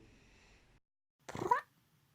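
A single short cat meow, close and clear, following a faint low hum that cuts to silence.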